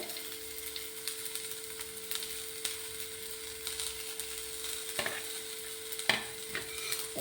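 Chickpeas for street-style chana masala sauté with a pinch of salt in a pan, giving a soft continuous sizzle with repeated scraping and stirring clatters from a spatula, close and moderately quiet.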